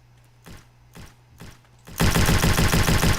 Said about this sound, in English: Gunshots are louder than you?